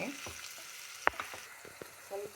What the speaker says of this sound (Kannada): ಈರುಳ್ಳಿ ಅದಕ್ಕೆ ಸ್ವಲ್ಪ ಫ್ರೈ ಮಾಡ್ತಾಯಿದ್ದೀನಿ ಅಷ್ಟೇ